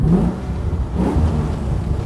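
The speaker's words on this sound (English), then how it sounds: "let me give it a little rev while we're driving, 40 miles an hour" The LS3 engine of a 1969 Chevrolet Camaro RS/SS convertible hums low and steady while driving at 40 miles an hour, swelling slightly as it revs, with a faint whir and no talking.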